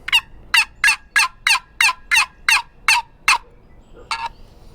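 A Penns Woods Waterproof Wizard turkey call worked close and loud, producing about ten sharp yelping notes in a steady run, followed by a short pause and one last yelp.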